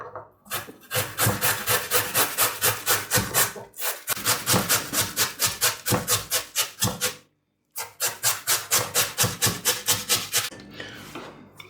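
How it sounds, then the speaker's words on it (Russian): A peeled potato is grated by hand on a grater, giving rhythmic rasping strokes in three quick bursts of steady back-and-forth scraping, close and loud with brief pauses between and no talking. "Очищенный картофель натираем на терке."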